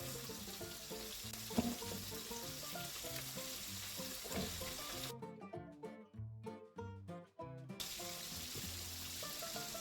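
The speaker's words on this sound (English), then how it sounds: "So let that side fry for about a minute." Chicken frying in hot oil over high heat for a kale and chicken dish, a loud continuous sizzle with crackling spits, briefly dipping mid-way before resuming at full strength.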